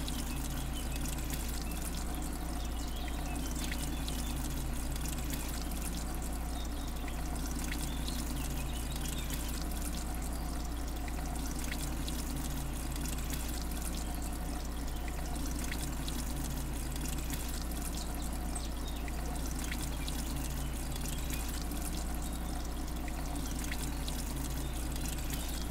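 Watering can effect from the farming video game Everdream Valley, a steady continuous pouring trickle like a running faucet, loud and unbroken throughout with no talk over it.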